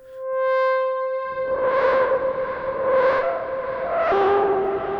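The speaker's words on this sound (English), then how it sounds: "sending noise to the FM input of the oscillator" A synthesizer oscillator holds a bright sustained tone, then pink noise fed into its FM input roughens it into a grainy, swelling, distorted drone that rises and falls in slow waves.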